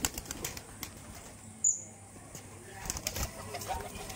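A giribaz pigeon flaps its wings nearby in a short burst of fluttering against quiet room noise, with faint background sounds around it.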